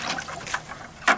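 Water pouring into a dry mix of masonry sand and Portland cement gives a short close splash and trickle with a few quick gurgling bursts.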